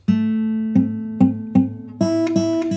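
Several guitar strums ring out one after another, the chord sounding slightly dull and incomplete, with the second string blocked by a fretting finger.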